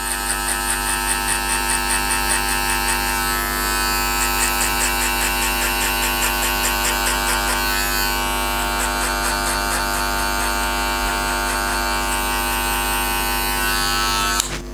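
Electric hair clippers with the blade fully open, cutting a guideline for a skin fade at a barbershop, buzzing loudly and steadily up close, the motor tone wavering slightly as the blade moves through hair.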